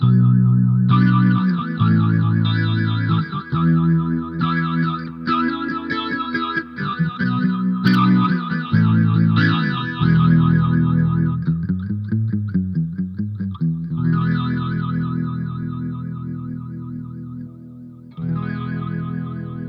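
Guitar played through a Beetronics Larva pedal set to phaser with wet and dry blended: sustained distorted chords with sweeping, swirling phase movement, loud and continuous, with a brief pause near the end, no talk.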